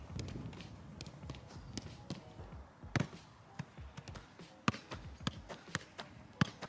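A football being juggled in Skechers SKX 01 Low FG boots gives soft, irregular taps and thuds, with a few sharper close touches standing out against quiet background noise.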